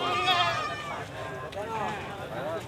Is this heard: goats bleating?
yes